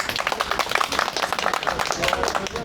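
Street crowd clapping for a dancer in a Kadıköy street during Roman dance, dense continuous applause with voices mixed in.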